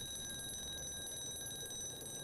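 A steady electronic alarm rings without pause inside the horror video game Casting Whispers, its thin high tones droning continuously over a faint low ambient rumble, no voices present.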